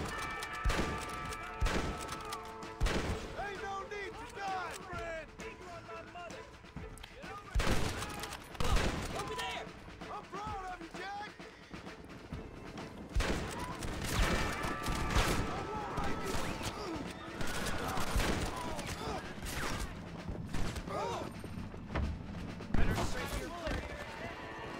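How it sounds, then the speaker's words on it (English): Gunfire in Red Dead Redemption comes in repeated sharp shots and volleys over a long stretch, loud and close amid a busy mix of game sounds, with someone talking in between. "Look at me shoot these motherfuckers."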